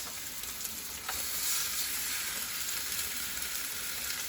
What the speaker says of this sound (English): So let's start browning these off. That's a good sound.